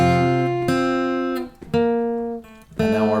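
Acoustic guitar picking a slow chord-melody arrangement of a song: four ringing chords struck one after another, each sustaining and fading before the next, played alone with no talking.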